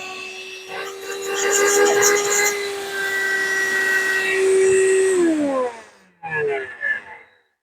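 A VacLife VL726 cordless handheld pet hair vacuum whirs loudly with a steady high-pitched whine for several seconds, winds down, then briefly restarts before cutting off.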